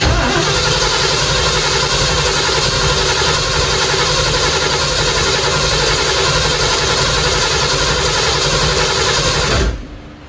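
A Ford Big Block 460 engine with its spark plugs in cranks on the starter in a steady, loud, rhythmic churn for nearly ten seconds and then cuts off abruptly, very close, with no talking.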